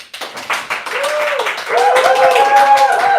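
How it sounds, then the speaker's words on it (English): Live studio audience in New York bursting into applause, clapping building quickly and swelling louder midway, with cheers and whoops over the steady clatter. "Applause!"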